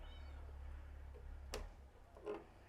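A farmyard cat meows twice in a quiet rural outdoor setting after being called, two short, fairly faint cries standing alone over a low background hum.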